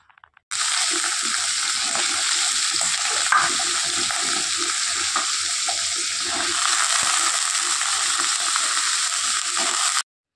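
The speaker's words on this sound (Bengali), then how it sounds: "আর কড়াইয়ে আমি এখানে এখন পেঁপে ভাজবো।" Steady, loud sizzling of papaya frying in a hot wok, with occasional scraping and stirring clinks; no voices.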